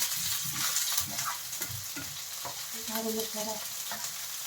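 Onions frying with canned sardines in a hot pan make a steady crackling sizzle, with occasional stirring scrapes, while someone speaks briefly over it.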